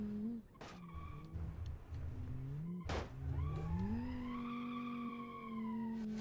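A front-wheel-drive wagon in the BeamNG driving game accelerates with tyres spinning and squealing, the engine pitch rising and falling through gear changes, loud and close.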